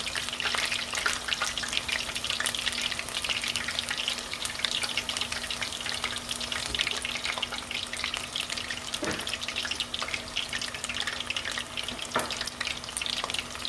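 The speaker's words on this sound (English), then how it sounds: "we're gonna be frying these for about 5 minutes" Steady crackling sizzle of beer-batter onion rings deep frying in hot oil, constant and close, with a faint hum and a couple of soft clinks.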